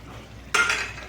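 A spoon stirring onion-coconut paste into a tomato-based egg curry in a pan, a single sudden scrape and clatter of utensil against the pot after a quiet moment.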